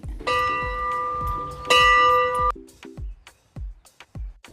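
A small chapel bell rings two bright, ringing strokes that sustain and fade, struck close by at a hillside chapel, with scattered crunchy footsteps and faint rustling around it.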